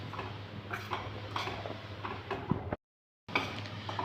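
Flour being stirred in a hot frying pan, with repeated close clicks and scrapes of a utensil against the metal, briefly dropping to silence before the stirring resumes.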